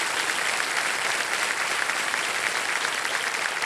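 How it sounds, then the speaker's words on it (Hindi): A studio audience at a quiz show applauds to welcome a young contestant, a dense, steady wash of clapping that stays loud and even from start to finish. "एक बार फिर तालियों के साथ इनका स्वागत है।"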